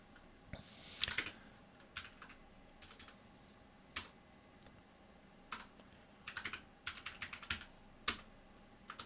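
Computer keyboard typing in short irregular bursts of crisp keystrokes with pauses between, close and fairly quiet over faint room hiss, no talk.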